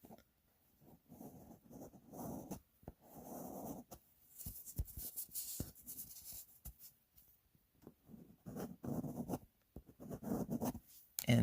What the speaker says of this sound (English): And then use the bone folder again.